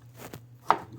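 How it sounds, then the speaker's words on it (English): A knife slicing food into rounds on a cutting board, two crisp taps a short pause apart, the second sharper and louder, close and alone. "slice them up"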